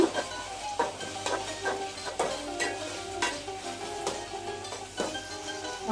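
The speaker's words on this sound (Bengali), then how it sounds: "পেঁয়াজ বাটা এগুলি দিয়ে দেব একটু ভালো করে আবার নেড়ে ছেড়ে ভেজে নেব" Onion, ginger and garlic paste fries in a pan while a spoon stirs it, giving a steady close sizzle broken by rhythmic scraping strokes about every half second.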